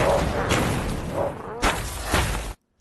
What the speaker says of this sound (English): And then we got this layer of just explosions and cracks here